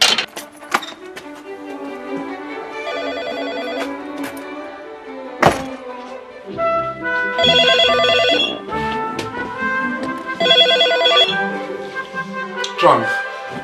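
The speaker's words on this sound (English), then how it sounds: "Professor Nick Humphrey gets a phone call from a colleague." A telephone ringing in a series of bright, repeated electronic trill bursts against a busy background of thumps and musical tones.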